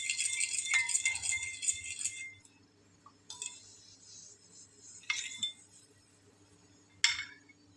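Batter for potato lollipops is stirred in a bowl, giving quick light clinking scrapes of a utensil against the bowl. A longer run of clinks comes first, then scattered clinks, all faint, with no talking.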